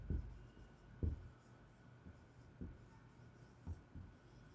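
Chalk or marker taps and strokes on a board while a chemistry numerical on the mole concept is worked out, faint and close, about six short knocks spread irregularly, with no talk.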